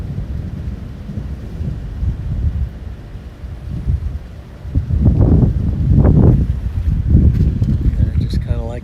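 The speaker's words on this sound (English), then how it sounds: "Just a sudden gust came by," Sudden wind gust rushing past a microphone during a supercell thunderstorm in Nebraska, low roaring bursts that swell after a few seconds of steadier rumble, loud and close.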